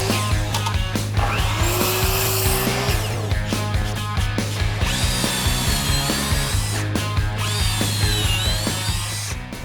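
A power tool cuts a 1x4 wood board into 5.5-inch sections in a series of loud, close whining bursts with short pauses between cuts, and the motor pitch rises and falls as each piece is cut.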